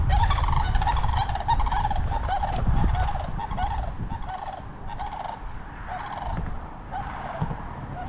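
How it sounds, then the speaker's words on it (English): Sandhill cranes calling from across the way outdoors at a spring homestead, a loud, continuous chorus of rattling, trumpeting calls that overlap steadily throughout, with no talking. "There's a couple of sandhill cranes across the way there."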